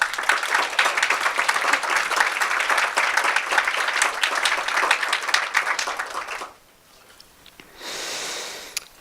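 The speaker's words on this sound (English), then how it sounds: "Now let's have a great round of applause for all of our incredible award recipients" Loud, sustained applause from an audience honoring award recipients at a youth-led health event, dense clapping lasting several seconds before cutting off, followed by a quieter hiss.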